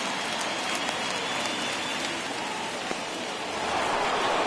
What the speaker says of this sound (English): This has got to be the hardest rain we've seen all afternoon.